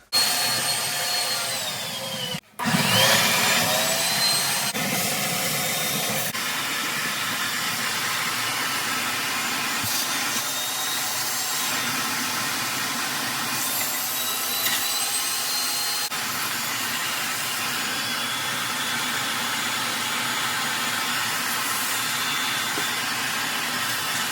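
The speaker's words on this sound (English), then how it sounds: "I'm gonna have to vacuum this water first." Steady wet-dry vacuum droning while sucking standing water out of an LG washer with a dryer stacked on top, loud and continuous for the whole stretch after a brief cut near the start, with no talk over it.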